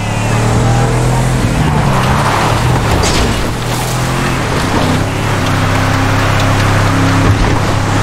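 A car in the GTA 5 video game driving and accelerating hard: a loud, steady engine roar with a broad rushing noise that barely varies across the whole stretch, with no talking.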